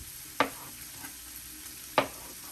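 Peppers and onions cook in a pan with a faint, steady sizzle, broken by two sharp spatula scrapes about one and a half seconds apart.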